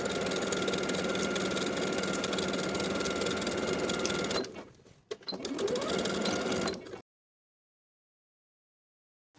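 A sewing machine runs steadily across a plaid wool jacket sleeve, loud and close, breaks off briefly, then stitches a short burst more before stopping into silence.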